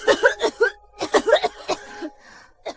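A sick patient coughs in a series of short, close, repeated bursts, with a brief pause between two groups and a quieter stretch at the end.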